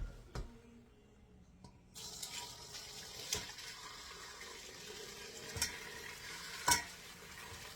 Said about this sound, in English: I'm going to take this pot and dump the shells and everything into this strainer.